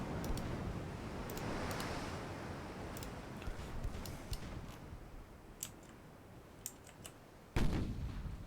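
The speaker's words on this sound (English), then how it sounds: "Wow, a lot of torpedoes. My goodness me. And it's firing them." A fast destroyer in a naval video game fires a spread of torpedoes: a steady broadband rumble pierced by sharp, scattered clicks and ticks, ending with a sudden louder burst near the close.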